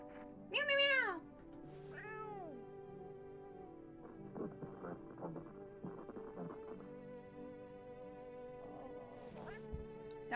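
Several meows from a cat in the horror game No, I'm not Human, rising and falling close up at the start, then a pitched cat cry, followed by game noises and a steady background hum.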